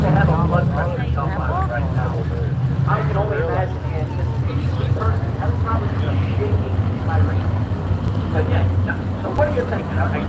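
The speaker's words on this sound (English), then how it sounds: "The RPM's picking up the cars, picking up the pace" Outlaw 350 supermodified sprint cars at Sandusky Speedway rumble and drone as their engines rev, a loud continuous roar under steady announcer-style talking throughout.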